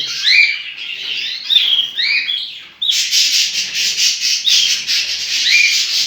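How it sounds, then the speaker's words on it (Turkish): Pair of caged canaries singing close and loud, bright warbling trills and chirps in continuous bursts with a brief pause midway. "Çift kanaryalarımız."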